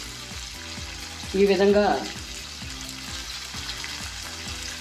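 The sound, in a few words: tomatoes and green chillies frying in a pan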